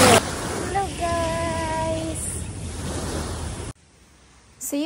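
Ocean waves roll in at Chung Hom Kok Beach in Hong Kong with a steady, loud surf wash, joined by a brief sustained tonal sound partway through, then cut to near silence before a short voice near the end.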